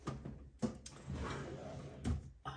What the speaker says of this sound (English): I'm gonna try and get in my drawers.